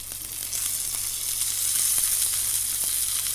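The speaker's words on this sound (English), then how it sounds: "Another little sear on its skin." Meat sears on its skin and fatty edge in a hot pan, giving a steady loud sizzle and hiss that swells slightly after the first half second, with faint low hum underneath and no talk.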